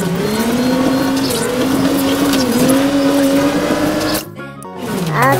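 Heavy excavator engine revving hard with a steady, loud, rising and falling drone, a brief dip near the end then picking back up as the machine backs up and throttles.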